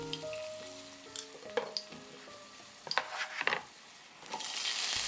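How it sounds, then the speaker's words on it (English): Garlic sizzling in olive oil in a pan over low heat, a steady soft frying hiss with occasional pops and light stirring clatter, close and fairly quiet with no talk. "When it begins to sizzle, reduce the heat to low and saute the garlic until aromatic."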